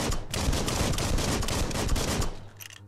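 Machine gun fire in the video game Biomutant: a continuous loud burst of rapid automatic shots lasting over two seconds before cutting off, followed by a brief softer clatter.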